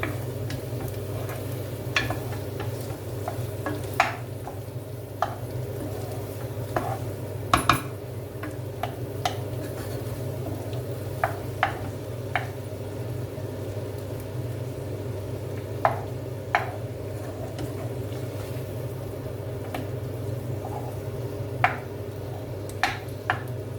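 A spoon stirs goulash with butter added in a pot, producing a steady low cooking hiss with scattered light clinks and scrapes of utensil against metal, close and fairly quiet, with no talking.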